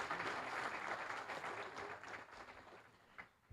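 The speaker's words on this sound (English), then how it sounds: "please give a round of applause again" Applause from an audience at an economic session of a club event, a dense wash of many hands clapping that gradually thins and fades, with a couple of louder isolated claps near the end.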